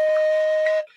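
A Native American flute plays one sustained, slightly airy note with fingers only partly covering a hole, giving a thin breathy edge before it cuts off after under a second.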